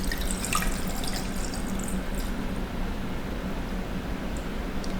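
Water is poured steadily into a flower arrangement container packed around a floral frog, a continuous soft splashing and trickling with light dripping, close and alone.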